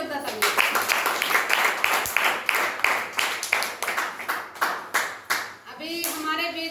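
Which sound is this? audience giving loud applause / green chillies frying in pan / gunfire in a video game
audience giving loud applause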